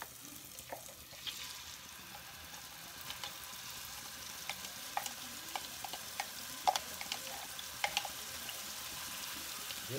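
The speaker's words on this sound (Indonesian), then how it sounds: "Nah, ini wajannya sudah diisi dengan minyak sedikit. Kita akan menumisnya, sudah panas." A blended spice paste frying in a little hot oil in a wok, a soft steady sizzle with faint crackles and light stirring scrapes throughout, no talking.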